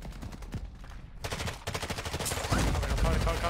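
Rapid automatic gunfire rattles in Call of Duty: Warzone 2.0, with bursts growing denser and louder toward the end among other game sounds.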